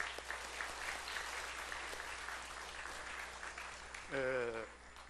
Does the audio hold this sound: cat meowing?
no